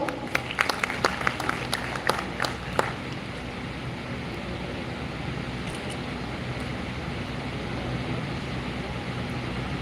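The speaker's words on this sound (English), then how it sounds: "Please welcome him with a round of applause." Audience applause at a law festival inauguration ceremony, several distinct claps at first giving way to a faint, distant, steady wash of clapping.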